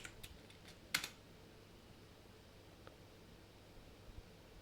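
A few quick keystrokes on a computer keyboard entering a terminal command, a short burst of close clicks followed by quiet room hiss.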